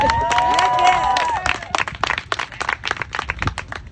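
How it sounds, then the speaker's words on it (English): A community event audience gives a round of applause with cheering. It starts as a loud burst of clapping and whoops, then breaks into scattered, uneven claps that trail off. "please give her another round of applause"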